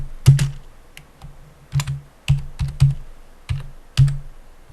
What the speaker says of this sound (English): Now I'm going to type